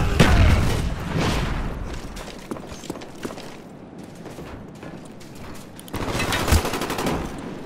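Combat in Call of Duty Black Ops with a sticky grenade blast and sustained gunfire: heavy booms open the clip, rattling automatic fire runs throughout, and a second loud burst of explosions and shots arrives near the end.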